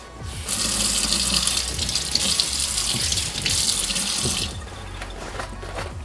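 Steady tap water gushes and splashes onto a crossbody sling bag for several seconds, loud and close, with some irregular patter before it tapers off at the end.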